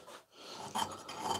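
A file rasps in a few short strokes, putting a chamfer on the inside edge of an axe eye, close and fairly quiet with a brief pause.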